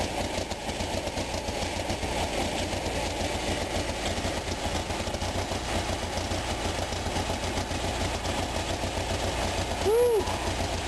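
An Onan engine runs steadily at idle while its carburetor idle valve is adjusted, a constant close mechanical drone with even low throb throughout and a brief faint tone near the end.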